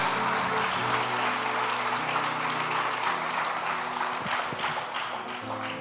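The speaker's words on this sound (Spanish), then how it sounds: "Vamos, dale un aplauso a Él esta noche" A congregation at an evening church service claps and cheers together in a dense, continuous burst, with a voice and some musical tones running beneath the applause.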